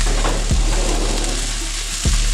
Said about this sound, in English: Now we're gonna add 1 cup of oil.